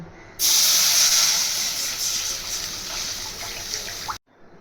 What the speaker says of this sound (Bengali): কড়াইতে আমি কিছু পরিমাণে জল দিয়ে দিয়েছি